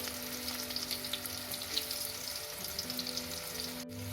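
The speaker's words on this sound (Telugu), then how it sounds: "కాకరకాయల్ని ముందుగా ఒకవైపు బాగా గోల్డెన్ బ్రౌన్ కిందకి ఫ్రై చేసుకుని తర్వాత ఇంకో వైపుకి తిప్పించి ఆ సైడ్ కూడా క్రిస్పీగా ఫ్రై చేసుకోవాలి" Stuffed bitter gourds frying in oil, a continuous soft crackling sizzle close by with a faint steady hum underneath and one sharp click near the end.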